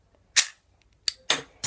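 An Assassin's Creed Unity toy prop bow firing a dart, a sharp snapping crack followed by several more quick, close, loud snaps.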